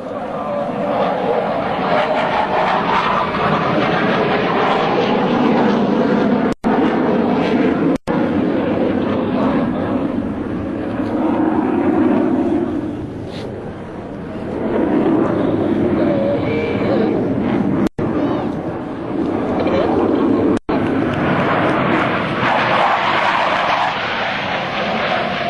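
US Navy Blue Angels jets fly a Diamond aileron roll over an Air National Guard open house in Rhode Island, a loud sustained jet roar that swells and fades, with talk over it and brief dropouts.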